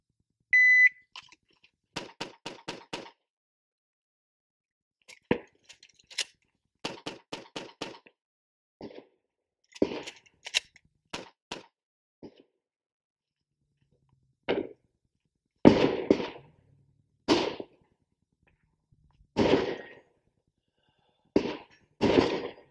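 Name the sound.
shot timer beep then handgun shooting drill gunfire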